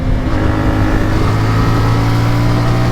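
A CF Moto 450 Ibex motorcycle engine drones steadily and loud, a dense continuous hum with strong low tones as it runs through gears, no clear speech over it.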